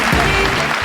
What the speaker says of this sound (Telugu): చప్పట్లు కొట్టండి మా వాళ్ళకి